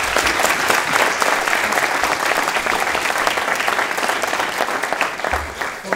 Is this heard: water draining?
no